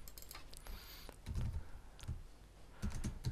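Typing on a computer keyboard while building a C# billing system interface, with irregular bursts of key clicks up close and short pauses between runs.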